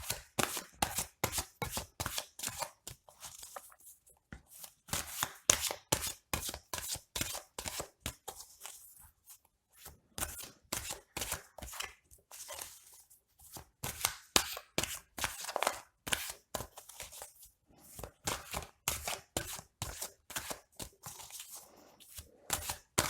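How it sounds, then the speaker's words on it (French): Oracle cards are shuffled by hand in quick, rapid rhythmic bursts of crisp slapping and riffling, close and clear, pausing briefly between runs and continuing for a long stretch without speech. "On va tirer quelques cartes supplémentaires pour clôturer ce tirage"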